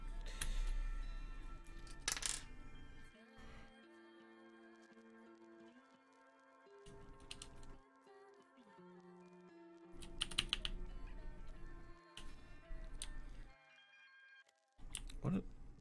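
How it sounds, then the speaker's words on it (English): Tai-Hao keycaps go onto a Vortex Pok3r keyboard in scattered bursts of clicky plastic taps and snaps, separated by quiet gaps and set against a steady electronic hum. "watching me install these keycaps for hours on end"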